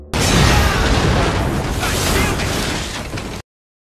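A loud, sustained explosive blast with a roaring, crackling rumble that cuts off abruptly after about three seconds.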